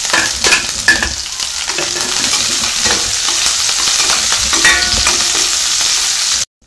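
Onion, garlic, green chilli and curry leaves sizzle in an oily pan as they are stirred, a loud, continuous close-up frying hiss with scraping stirs that cuts off abruptly at the end.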